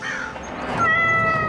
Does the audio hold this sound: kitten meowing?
yes